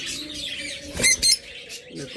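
A pair of pet creamino opaline birds chirps in short bright bursts, with two sharper calls in quick succession near the middle, while someone talks over them.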